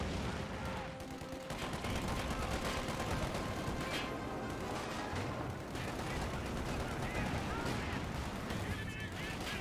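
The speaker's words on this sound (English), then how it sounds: "Got some artillery being brought in. Looks like major artillery." Artillery fire in the Company of Heroes 2 strategy game, a dense, continuous barrage of booming shots and gunfire layered loudly across the whole stretch with no pauses.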